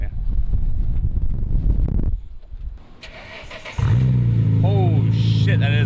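A Nissan Laurel engine starts loud and close after a wind-buffeted stretch, then settles into a strong, steady idle with rising rev sweeps near the end, while people talk beside it.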